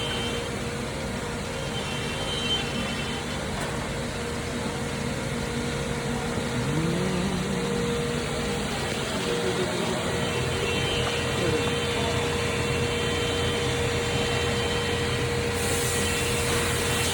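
Wooden or synthetic knife scales being sanded in a workshop while a room fan and an exhaust fan run, giving a steady broadband whoosh with a faint shifting rasp of abrasion underneath, no talking.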